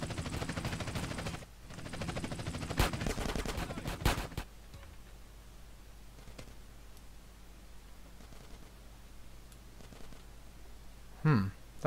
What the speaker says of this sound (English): Let's try and use the shotgun.